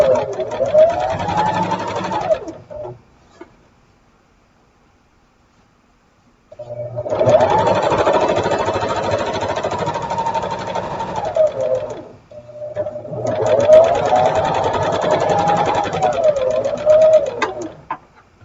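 Sewing machine stitching quilt blocks together in three steady runs of fast, even mechanical whirring, separated by pauses, close up with faint background sounds.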